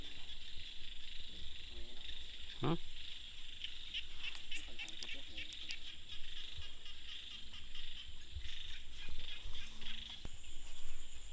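Frogs croak across a rice field at night over a steady, high insect drone, with scattered calls near and far and faint voices now and then.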